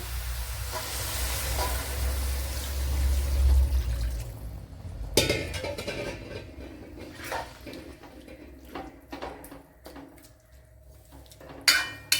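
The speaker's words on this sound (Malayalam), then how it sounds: "ഇനി ഇതിലേക്ക് ചിക്കൻ വേകുവാൻ ആവശ്യമായ വെള്ളം ഒഴിച്ചു കൊടുക്കുക." Cold water poured into chicken in a cooking pot, a loud rushing pour with hiss and steam for several seconds, then quieter clinks and scrapes of utensils against the pot.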